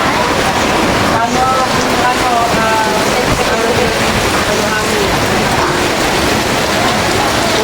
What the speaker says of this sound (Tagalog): ulan, hangin po, malakas na